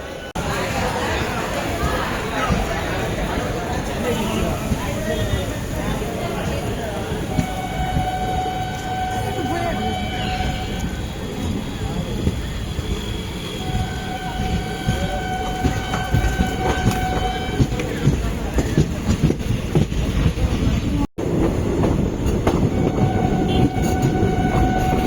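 An empty train pulls out of Tiruvannamalai station bound for Chennai, rumbling steadily and loudly, with a horn tone sounding now and then. People talk nearby throughout.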